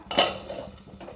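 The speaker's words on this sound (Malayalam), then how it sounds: "ഇനി ഇത് മൂടി വെക്കാം." A metal lid set down onto a dosa pan while millet dosa cooks, one close clatter of metal on metal followed by a faint ring and low kitchen rustle.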